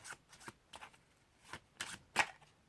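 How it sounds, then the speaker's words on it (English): Playing cards riffle-shuffled in a close, quiet setting during a card trick, giving several short papery bursts that end in a sharper final riffle. "You get them to give the cards a shuffle."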